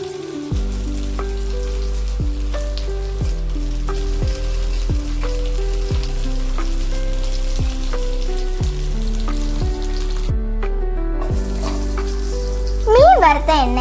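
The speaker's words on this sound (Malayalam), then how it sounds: "ഇനി ഒരു പാനിൽ വെളിച്ചെണ്ണ ഒഴിച്ച് കരിമീൻ വറുത്തെടുക്കാം" Karimeen pearl spot fish frying in coconut oil in a pan, a loud continuous sizzle close up, with a backing music track of plucked notes playing over it and a brief gap near the end.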